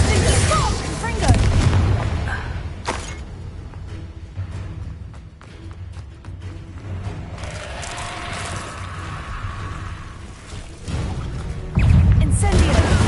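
Confringo fire-spell blasts in the Hogwarts Legacy video game, booming explosive bursts at the start and end with crackling combat effects between, loud and close.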